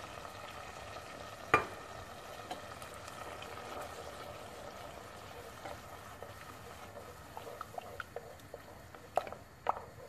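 Pasta cooking water added to a sauce in a pot sizzles and bubbles quietly, a low steady simmering hiss with a few sharp clinks and pops along the way.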